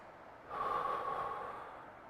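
A single soft, slow deep breath, drawn in during a golf shoulder-turn stretch, swelling and fading over about a second and a half, quiet and close with no talking.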